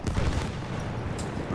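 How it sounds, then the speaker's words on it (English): Explosion in the Battlefield 1 Rush game mode, heard as a loud, dense roar of blast and gunfire-like crackle that rumbles on without a break through the whole moment of wartime combat. "I got a right explosion there."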